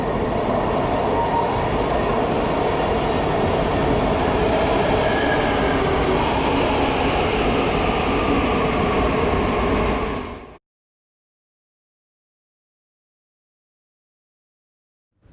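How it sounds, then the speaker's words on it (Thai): A train pulls into a station in Istanbul with a loud, sustained roar of wheels and rail noise up close, then the sound cuts off abruptly into silence. "ประมาณสองสามนาทีก็จะมีรถไฟ ตอนนี้มาแล้วนะครับ"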